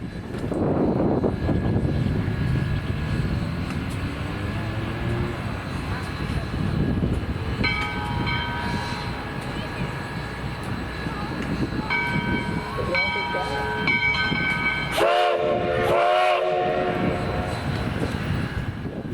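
US Sugar steam locomotive 148 hauls the 2022 AAPRCO Sugarland Limited excursion toward Clewiston with a loud, continuous rumble and hiss, while its whistle sounds in several long blasts toward the end.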